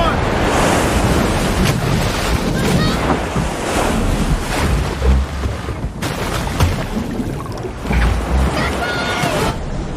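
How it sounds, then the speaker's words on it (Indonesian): Big ocean waves crash against a small boat at sea in roaring, repeated bursts over steady wind and surf. The sound is loud and close, with a few spaced heavy impacts. "keburu ombak yang besar menerjang perahu mereka"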